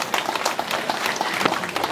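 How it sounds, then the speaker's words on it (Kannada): Guests applaud at a garland exchange during a Lingayat vachana wedding ceremony, a brisk burst of dense clapping from a nearby crowd. "ಹಾರು ವಿನಿಮಯ ಮಾಡ್ಕೊಂಡಾಗ ಚಪ್ಪಾಳೆ ಬಾರಿಸ್ರಿ"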